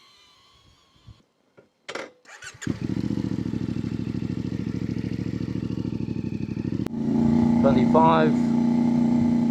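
A motorcycle on a trail, filmed by a following drone, idles and rides in a close, steady pulsing engine drone, with a louder shift in tone near the end; brief speech and clatter come first.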